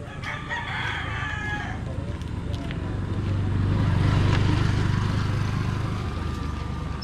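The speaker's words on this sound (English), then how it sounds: "A lot of roosters there." Several roosters at a rooster farm in the Philippines crow in overlapping calls, one near and loud at first, with a low engine rumble swelling in the background.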